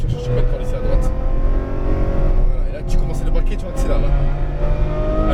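A Ferrari F12 Berlinetta accelerates on a race track, its engine note climbing loudly and steadily from inside the car while a voice talks over it.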